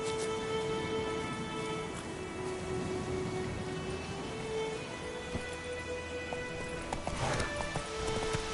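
The horse Roach gallops in The Witcher 3 video game, a steady rhythmic hoofbeat clip-clop at moderate distance over a rain-like wash of ambience, with a brief louder swell near the end.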